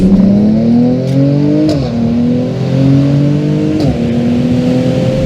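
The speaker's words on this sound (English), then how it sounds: "But this, it's a really raucous wee engine." A Mini Cooper S turbo four-cylinder engine revs hard and raspy, pitch climbing through gears with short dips at each shift, loud and close.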